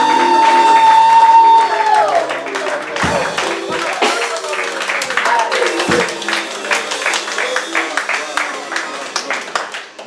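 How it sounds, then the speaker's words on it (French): A church congregation at a full gospel worship service in Bezons claps loudly and continuously, with scattered cheers and voices rising over the applause after a sustained tone fades. "Acclamons encore très fort"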